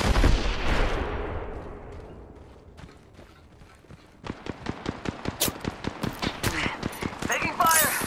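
Gunfire in the Apex Legends video game, a heavy blast fading off, then a rapid burst of close, sharp automatic shots in quick succession, with a voice talking over part of it.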